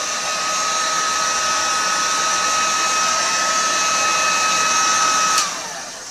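Heat gun blowing steadily on heat-shrink thermo sleeving during an assembly, a loud continuous airy roar with a faint whine that holds for about five seconds, then drops abruptly as the gun is switched off and winds down.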